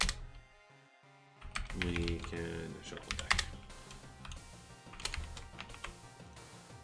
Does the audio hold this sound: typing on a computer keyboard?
yes